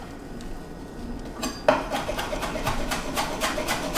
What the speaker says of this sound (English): we got some cilantro that we reserved from earlier. And we're just gonna do the same thing. We're gonna chop this up.